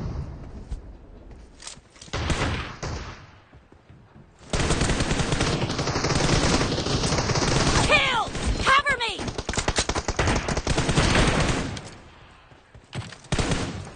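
Gunfire in the mobile game PUBG Mobile, with rapid automatic bursts and single shots, loud and close, starting and stopping several times over a few seconds.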